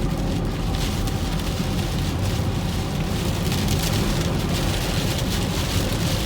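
Heavy rain drums steadily on a moving Ford Windstar minivan, a dense, loud, unbroken patter with road hiss underneath and scattered sharper drop impacts.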